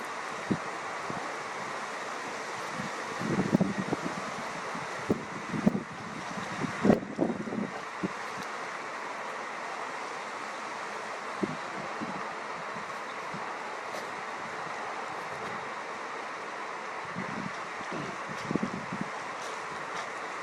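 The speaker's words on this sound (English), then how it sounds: "All that wind is blowing out the humidity." Wind blows outdoors at night during a blood moon eclipse, a steady hiss and rush across the whole stretch, with occasional low buffeting gusts against the microphone.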